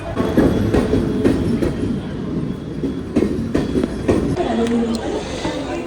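Inside a Mumbai suburban train riding toward Dadar station, a steady rumble with rhythmic clickety-clack of wheels over rail joints and some metallic squeal, with voices heard faintly over the noise.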